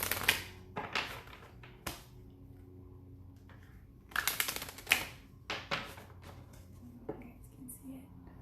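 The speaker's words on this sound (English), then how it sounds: "I'm going to pull a few cards for you guys from this Crystal Oracle deck" A Crystal Oracle deck is shuffled and cards are drawn, making crisp, irregular slaps and flicks that come in small clusters over a low background, with a voice speaking quietly between them.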